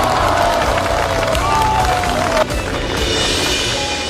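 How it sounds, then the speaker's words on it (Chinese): Enthusiastic applause and cheering from a rural crowd gathered on sandy farmland, a dense continuous burst of clapping, with music and voices layered underneath and a sharp change partway through. "热烈的掌声在田野上回荡"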